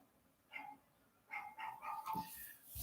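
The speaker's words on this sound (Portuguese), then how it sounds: "Provavelmente vocês vão escutar um som de um cachorrinho" A small dog barks a few times from a short distance, with sharp yips in quick succession toward the end, in an otherwise quiet room during an evangelizers' meeting.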